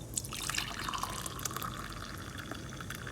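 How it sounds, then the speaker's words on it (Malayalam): Cooked white beans being drained of their water for a Kerala onion erissery, a soft continuous trickle and splash of liquid with scattered drips, fairly quiet and close. "വെള്ളം നമുക്ക് ഇതിന്ന് ഊറ്റി വയ്ക്കാം"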